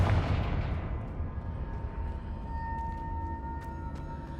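A Confringo blast spell explodes in Hogwarts Legacy, a loud booming burst that opens the sound and then rolls off into a long, low rumbling decay.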